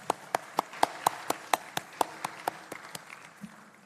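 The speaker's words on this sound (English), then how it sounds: "we owe them a massive round of applause" At a university convocation, a few sharp, rhythmic claps lead off, spaced about a quarter second apart, over a softer background of scattered audience applause that gradually loosens and fades.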